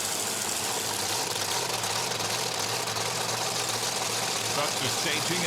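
Monster truck's 540 cubic inch Chevrolet engine, roughly 1,500 horsepower, idling with a steady low rumble at a Monster Jam arena event, heard continuously beneath a loud, busy crowd-and-announcer wash.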